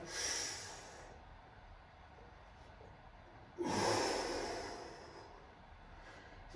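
Deep breathing during a stretching exercise: two long audible breaths, one at the start and a stronger airy inhale-exhale midway, close and fairly quiet.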